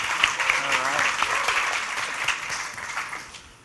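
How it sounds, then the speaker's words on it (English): A conference audience gives a standing ovation at a sales event, broad steady clapping that fades toward the end, with a voice speaking over the start. "Look at that. A standing ovation."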